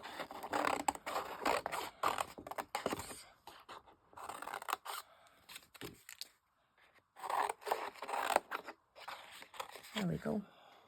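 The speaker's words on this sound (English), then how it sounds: "I'm going to cut these apart like this because I want them to have some space" Scissors snip apart small paper pieces for miniature dollhouse Christmas decorations, with crisp cutting and rustling in short bursts between stretches of someone talking nearby.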